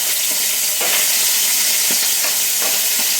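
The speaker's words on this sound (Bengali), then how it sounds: "এই যে মাছগুলো প্রথমে ভেজে নেবো" Fish frying in a pan, a loud, dense, close sizzle with steady hiss and a few brief crackling pops, no voices.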